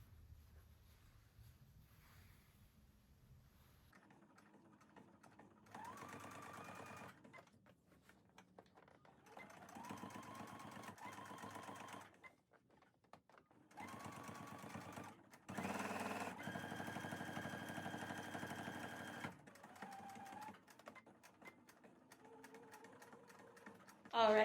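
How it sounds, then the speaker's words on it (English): A sewing machine top-stitches a fabric banana-style bag in bursts of rapid mechanical whirring separated by quiet pauses, fairly close, with some softer handling noises between runs. "I'm just gonna top stitch that down as a design detail"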